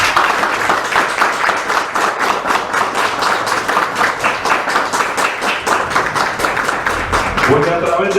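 An audience at a spiritist talk breaks into sustained, loud applause for Allan Kardec, its steady clapping rhythm continuous throughout, with a voice rising briefly over it near the end.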